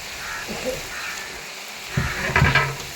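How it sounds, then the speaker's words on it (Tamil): Ginger, garlic, garam masala, chili powder, turmeric, cashew and tomato masala sizzles while being sautéed for a large batch of mutton biryani, a low crackling fry broken by louder bursts of stirring near the end. "இஞ்சி பூண்டு கரம் மசாலா மிளகாத்தூள் மஞ்சள் தூள் முந்திரி பயிர் தக்காளி எல்லாம் சேர்த்த மசாலா நல்லா வதக்குங்க"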